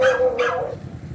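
Big dogs bark along a street in a Philippine neighbourhood, a single loud close bark that trails off quickly into the quieter outdoor background.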